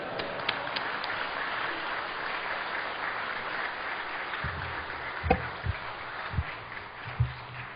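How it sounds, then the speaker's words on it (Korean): Congregation applause welcoming a pastor to the stage at a Full Gospel church worship service, a steady broad wash of clapping that carries on throughout, with a few dull thumps near the end. "큰 박수로 맞이하겠습니다"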